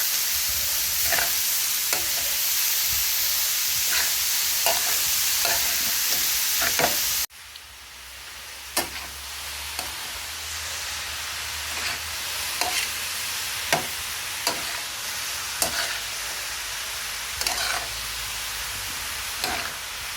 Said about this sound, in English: This has to be constantly mix it on high heat until it is cooked.